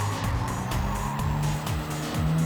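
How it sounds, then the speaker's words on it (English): A Renault Sport Clio R.S. in Gran Turismo 7 at full throttle out of a corner, its engine revving hard and climbing in pitch through quick upshifts, loud and continuous. "hit the throttle going full out on the exit"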